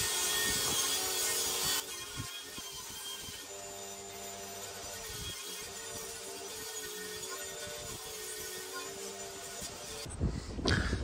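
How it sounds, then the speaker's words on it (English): An oak frame panel is cut to rip a notch from its end, giving a steady close rasping, grinding sawing sound that runs almost continuously before a brief pause and burst at the end. "So it's got to rip that sort of notch out the end of that panel."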